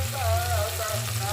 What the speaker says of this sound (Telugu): బాగా ఫ్రై అవుతుంది.